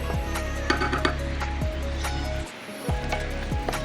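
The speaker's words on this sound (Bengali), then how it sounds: "দিয়ে দেবো 1 কাপ মুগের ডাল আর দিয়ে দেবো 1 কাপ মসুর ডাল দিয়ে ভালো করে এটাকে ভাজবো" Moong and masoor dal fry in a pan, a soft sizzle under clinks and scrapes as a utensil stirs the lentils, with a steady low hum behind and a brief quieter gap midway.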